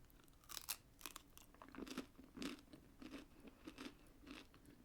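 Close, crisp crunching and chewing of a biscuit with chocolate in the middle, melted bubbly caramel on either side and macadamia nuts, in quiet bites repeating every half second or so, with no talk.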